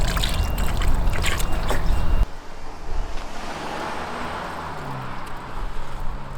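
Water is poured into concrete mix while building a DIY skate spot outdoors, a steady rushing splash that cuts off abruptly, followed by softer trickling and wet sloshing at close range.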